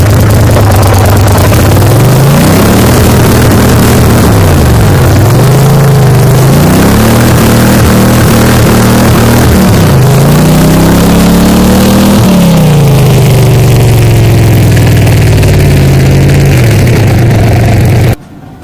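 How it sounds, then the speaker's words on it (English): A Mud Buddy HDR mud motor on a Prodigy boat runs loud and close in reverse, its engine note rising and falling through several revs before cutting off abruptly at the end. "I love being able to back this boat up."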